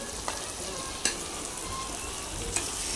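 Steady frying sizzle of leafy greens fills the clip, with a few sharp clicks of a utensil stirring them in a hot pan.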